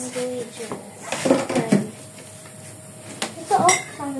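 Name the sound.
mixing dry ingredients for puto in a bowl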